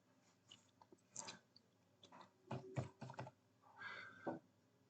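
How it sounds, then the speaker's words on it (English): Short bursts of light taps on an iPhone touchscreen keyboard as a text message is typed, a few clustered clicks with brief pauses, close and quiet with no talking. "Under text, type your text."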